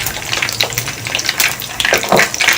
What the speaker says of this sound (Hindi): ये फ्राई हो रहे हैं, हमें इसे अच्छा सा लाइट सा गोल्डन सा कलर देना है।